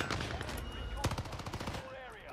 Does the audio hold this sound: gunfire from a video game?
yes